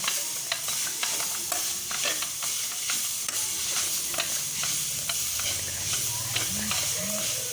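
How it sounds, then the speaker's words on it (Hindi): Grated radish stirred into a fried spice mixture in a pan for radish paratha filling, a continuous sizzle under frequent scraping and tapping of the spoon, close and steady. "इसको पकाना नहीं है, बस मिक्स करना है"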